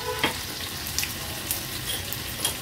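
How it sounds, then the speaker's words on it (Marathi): Ginger-garlic crush sizzles in about three tablespoons of hot oil in a kadai, a soft, steady frying hiss with a few light crackles and stirring taps. "1 चमचा भर आपण ह्याच्यामध्ये आलं लसूण क्रश घालूया।"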